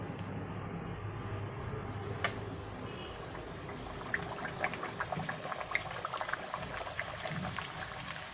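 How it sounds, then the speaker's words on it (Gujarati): Bhature frying in hot oil give a low, steady bubbling sizzle with scattered crackles and pops, fairly faint and close, with no talk over it. "આપણે 3 ભટુરા આ રીતે આપણે તળી લેવું"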